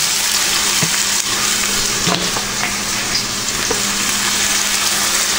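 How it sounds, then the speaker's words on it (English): Garlic frying in a hot pan on a home stove, a constant close hissing sizzle with a few faint clicks and scrapes underneath. "You can hear that garlic starting to fry up there."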